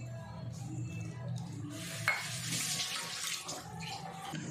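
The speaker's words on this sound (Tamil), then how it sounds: "தான் 1/2 கப் அளவுக்கு தண்ணி சேர்த்துக்குவோம்." Water poured into a pan to make sugar syrup for boondi laddu, a steady close splash and trickle with faint clinks of the vessel, no talk.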